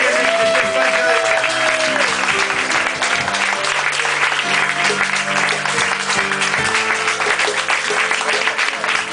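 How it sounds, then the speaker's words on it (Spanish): Warm, sustained applause from an audience at a bookshop book presentation in Barcelona, dense clapping that carries on for several seconds, with a few voices rising over it. "os quiero pedir de nuevo un fuerte aplauso para la librería Contrabandos, para Maite"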